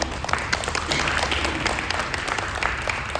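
Audience applause at a veterans healthcare roundtable in Mount Vernon, honoring the city's Veterans Service Agency director: a steady wash of many hands clapping, fairly close and sustained, with no speech over it.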